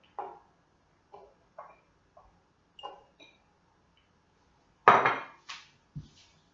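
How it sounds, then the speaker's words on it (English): Single garlic cloves dropped one at a time into small glass jars for four thieves vinegar, giving a sparse series of short clinks and taps, close and fairly crisp, with one louder knock near the end. "So we're just going to add 1 clove to each of our little jars here."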